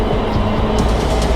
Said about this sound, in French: le métro il vient de s'arrêter un peu au milieu de la ligne